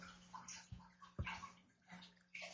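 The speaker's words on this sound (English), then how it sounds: "I hear water and cooking." Water running and splashing into a kitchen sink during cooking, quiet and steady with a few soft knocks and clatters, heard faintly in the background without talk.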